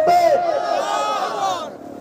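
A large crowd at a sermon roars a loud, unified takbir chant, voices swelling together close and full before fading after about two seconds.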